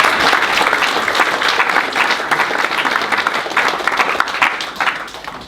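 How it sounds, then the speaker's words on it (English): Loud, enthusiastic audience applause from a large crowd, a continuous dense clatter of clapping that holds steady before easing slightly at the end. "So round of applause."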